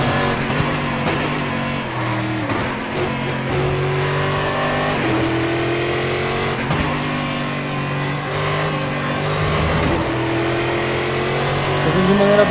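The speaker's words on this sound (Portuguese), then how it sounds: "Nós vamos desligar e ligar o carro novamente." Racing car in a classic-championship sim race game, its engine switched off and restarted, then revving and accelerating with continuous loud, rising and falling engine tones throughout.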